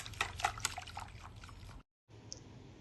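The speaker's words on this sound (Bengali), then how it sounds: "আমি আবারও ভালো করে দুধগুলোর সাথে দইগুলো মিশিয়ে নিব।" Yogurt stirred into milk in a bowl makes quiet liquid swishes and small clinks of the spoon, cut by a brief silent gap before soft stirring picks up again.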